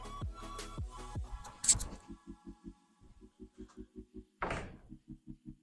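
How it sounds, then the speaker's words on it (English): A door is kicked open during at-home taekwondo skipping front-kick practice, landing as a sharp, loud thud with a second bang later, over a steady rhythmic pulsing beat and a brief voice at the start. "I kicked my door open."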